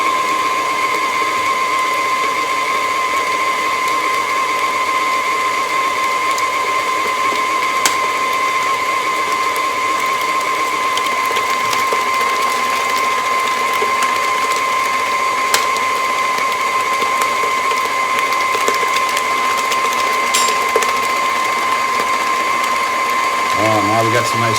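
An electric mixer drones steadily with a constant whirring hum while beating sugar for apricot cheesecake bar batter, loud and close, with faint clicks near the end.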